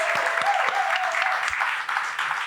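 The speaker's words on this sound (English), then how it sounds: "Let's give Jeremy another round of applause" An audience at a live storytelling event applauds steadily, a dense wash of clapping with no talk over it.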